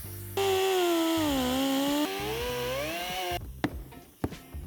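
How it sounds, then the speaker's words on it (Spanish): Circular saw cutting an opening into the rear bumper of a 2018 Audi Q8 for a tow hitch socket, a steady loud whine with a wavering pitch that stops abruptly, followed by a few sharp knocks. "Efectuaremos el recorte, yo en este caso ayudándome con una sierra circular."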